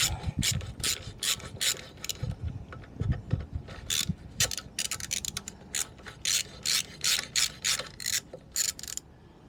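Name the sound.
spanner ratcheting a nut on a moped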